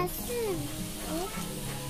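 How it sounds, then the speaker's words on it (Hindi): Puris frying in mildly warm oil in a home kitchen, a soft continuous sizzle with faint stirring and a low voice murmuring in the background. "तो हल्का गरम तेल में हमें पूरियों को तलना है।"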